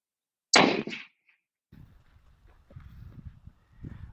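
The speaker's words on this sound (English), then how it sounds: "You can take your first shot and make necessary corrections after." One sharp rifle shot cracks loudly at a paper target during zeroing, decaying within half a second, followed by quieter shuffling and handling noises nearby.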